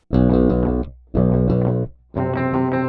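Three loud distorted 7-string multiscale Aklot guitar chords ring out one after another, with saturation turned all the way down, each sustained and then choked off, thick and gritty in tone.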